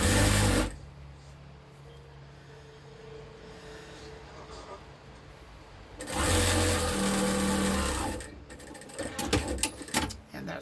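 A sewing machine stitches a strip onto a memory quilt row in two loud, steady runs, one brief at the start and a longer one midway, with quieter handling and some talk between.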